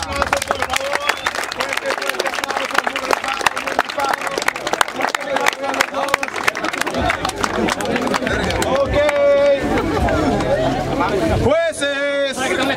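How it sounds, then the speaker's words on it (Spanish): Crowd applause and cheering at a rap battle, a long burst of dense, loud clapping that carries on throughout, with shouts and voices rising over it near the end. "un fuerte aplauso, por favor."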